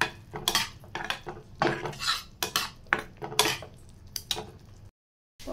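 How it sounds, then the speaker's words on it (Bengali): Spice paste with coriander powder and a little water being stir-fried in a pan, a spoon scraping and knocking against the metal in quick, uneven strokes, close and clear, ending in a short silence. "চলো মশলাটা কষিয়ে দিই।"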